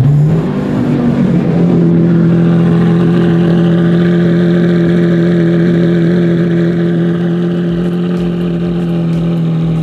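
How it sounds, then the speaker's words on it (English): Lamborghini Centenario V12 at a cold start, the engine flaring up to a high idle and holding a steady, loud, droning note up close, with no talking. "Do a small cold start."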